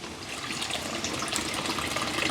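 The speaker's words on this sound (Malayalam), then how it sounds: "ഞാനിപ്പോൾ പച്ചവെള്ളം ഒഴിച്ചു കൊടുത്തു" Plain water gushes into a simmering fish curry gravy in a village kitchen, a steady, full splashing pour that runs throughout at close range with no voices.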